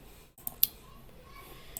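A computer mouse clicked twice in quick succession during Roblox setup on a PC, the sharp clicks close and fairly quiet over faint background hiss.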